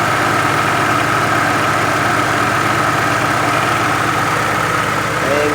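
Mitsubishi Lancer engine running steadily at idle after a high-tension wire repair, a loud, even, continuous hum close by with no talk.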